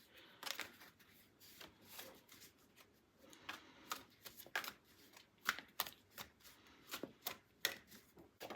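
A deck of tarot cards is shuffled close up, giving a quick, uneven series of crisp riffles and slaps at moderate loudness, alone without talk.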